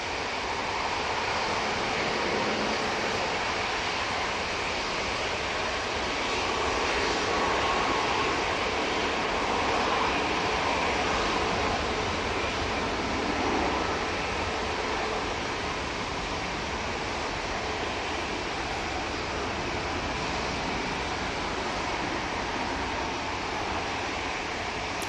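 A jet airliner departing Manchester Airport, its engines producing a broad, sustained roar that swells and eases slightly over the long take-off, heard from the ground at moderate distance with no talk.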